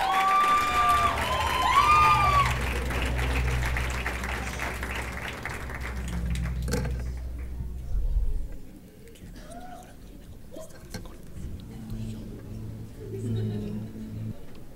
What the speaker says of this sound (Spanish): vamos a recibir con un fuerte aplauso otra vez a Óscar Carapia y a la maestra Guadalupe Tre